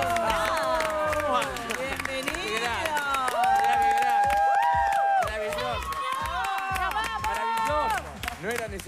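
A concert audience claps and cheers loudly for a long stretch while voices shout over the noise, with a tonal vocal or musical line rising above the crowd.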